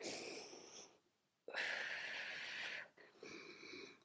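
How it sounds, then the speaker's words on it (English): Strong breath pushed out through pursed lips during a core and pelvic floor workout, two loud airy hissing exhales, the second long and forceful, separated by a brief quiet intake. "Those strong exhales through pursed lips."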